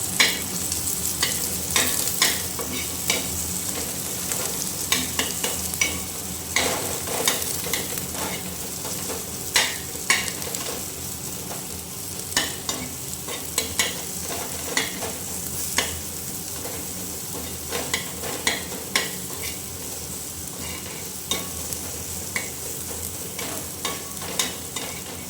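Green chillies and onion fry for bhujia in a pan, a continuous close sizzle broken by frequent sharp scraping clicks of stirring, with the stir strokes repeating irregularly throughout.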